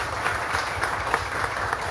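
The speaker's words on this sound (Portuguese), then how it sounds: "Uma salva de palmas para Jesus." Church congregation applauding during a thanksgiving worship service, a steady wash of hand claps at moderate distance with a few louder claps popping out, and no voices over it.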